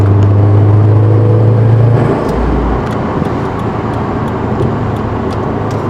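A 2017 Subaru WRX STI with all-wheel drive and a short-throw shifter drives along, its engine droning and rumbling steadily from inside the cabin before the pitch drops as revs ease, with constant road noise underneath.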